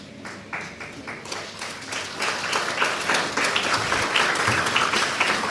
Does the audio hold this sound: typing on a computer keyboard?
no